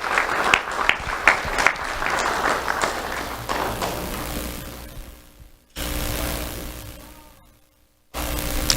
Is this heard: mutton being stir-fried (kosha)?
no